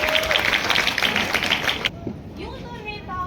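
An audience at a Hindi street play claps loudly and continuously in dense applause, welcoming Kachalu Yadav, then cuts off abruptly partway through, leaving quieter ambient noise.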